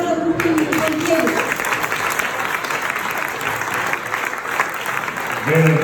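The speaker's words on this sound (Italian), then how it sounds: "Quindi un bel applauso a tutti i pompieri" Enthusiastic audience clapping for firefighters at a charity gala in Venice, a full dense burst of applause throughout with a voice briefly speaking at the start and end.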